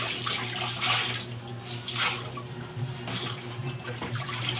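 Water pours steadily into a washing machine tub, a continuous rushing and splashing stream that stays close and fairly loud throughout, with no talk over it.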